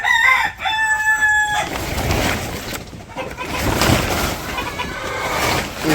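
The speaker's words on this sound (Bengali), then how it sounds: "এই যে মুরগি সব ডাকাডাকি করতেছে।" Chickens cluck in a morning henhouse and a rooster crows loudly at the start, followed by busy, close clucking and scratching that runs on throughout.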